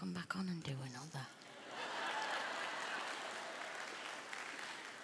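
A concert audience claps loudly and steadily at the grand finale of the Celtic Colours festival. The dense, sustained applause starts right after a performer speaks briefly and carries on to the end.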